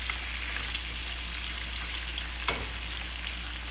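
Garlic and peppers fry in a pan, cooked the old-school Brooklyn way, giving a steady, close, crackling sizzle with a few small pops and no talking.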